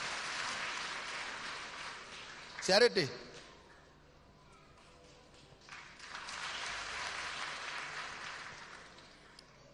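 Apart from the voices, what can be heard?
applause in church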